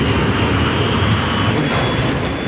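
Steady, loud roar of an Airbus jet engine at maximum thrust on the single remaining engine, a constant broadband rush with a faint high whine, heard from inside the aircraft.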